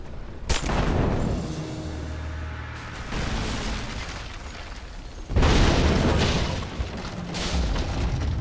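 Greek fire bursts in Rise of the Tomb Raider with a sharp opening crack, then a heavy roaring rumble, followed by a second loud booming surge of fiery debris, all dense and close with no talking.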